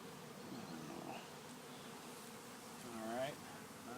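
Honeybees buzz steadily at close range through an open beehive inspection, a dense continuous hum with a brief louder swell as one flies near.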